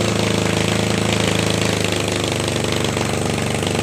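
A Honda Beat FI scooter with a faulty magneto and a throttle that won't respond idles close by, a loud, steady mechanical chatter with an uneven knocking pulse that holds through the whole stretch with no voices.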